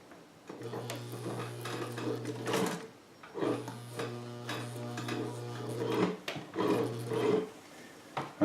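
A vintage Cool Blue Sovereign sewing machine runs in two long steady bursts and then a shorter one, loud and close with a strong motor hum, with brief pauses and handling clicks between runs.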